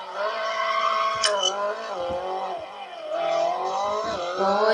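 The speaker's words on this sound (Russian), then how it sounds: "Мега дрифт." A car drifts in the mobile game Extreme Car Driving Simulator, its engine a loud steady whine that rises and dips continuously, with brief tire-squeal accents scattered through the slide.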